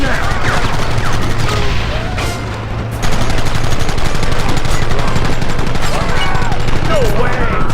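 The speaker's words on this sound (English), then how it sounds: "They're hiding behind the rocks! Gun them down!" Heavy, continuous gunfire rattles through a shootout in Red Dead Redemption, rapid overlapping shots loud and close over a constant background din, with voices shouting in between.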